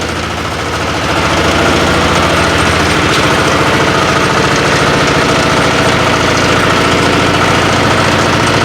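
A walk-behind tractor engine runs loudly and steadily at close range while the machine turns, its rhythmic chugging rising slightly in level after the first second.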